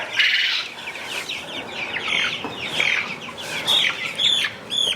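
Three-week-old Cornish Cross chickens cluck and chirp steadily in a farm brooder, a busy flock of overlapping calls at close range with no talking.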